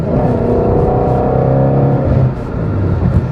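A Ford Mustang Shelby GT350 engine hums and rumbles steadily at a moderate, sustained pitch, easing off briefly before picking up again.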